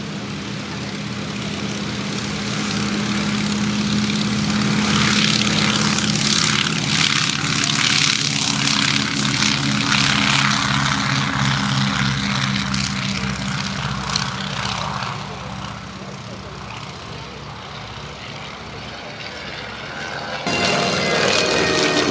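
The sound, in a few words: Avro Anson propeller aircraft taking off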